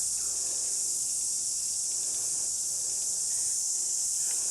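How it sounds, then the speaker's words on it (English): Cicadas sing in a New Zealand summer with a dense, continuous high-pitched buzz that holds steady throughout. The chorus is fairly loud and carries on alone, with no voices. "the cicadas get louder the warmer the day is"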